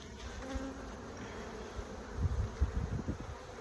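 A close, continuous hum of calm honey bees rises from an opened hive being inspected, with some louder buzzing passes in the second half and no talking.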